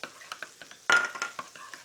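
Ground burger meat of beef, pork and lamb being mixed with raw clover honey gives wet squelching and scraping stirs, with a louder squish near the middle, close up and without talk.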